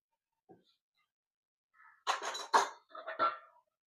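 A metal lid set down over a pan of chicken filling, giving a few light clinks and rattles: a faint tap first, then a cluster of close metallic knocks over about two seconds.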